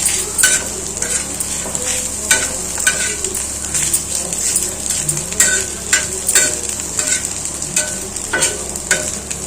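Cumin powder and garam masala fry for egg fried rice, a bright steady sizzle broken by repeated scraping stirs of a spatula against the pan in a loose rhythm.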